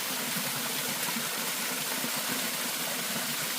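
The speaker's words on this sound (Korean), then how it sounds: "저렇게 물이 흐르고 내리고 있고 하니까 시원합니다" Water runs steadily from a jar-shaped sculpture down into a garden pond, a constant close trickling rush with a low hum beneath it and no voices.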